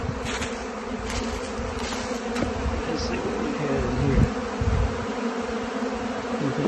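Honey bees swarm over old comb frames to rob the leftover honey, a dense, steady buzzing drone of many insects close by that lasts the whole stretch without pause, with no voices.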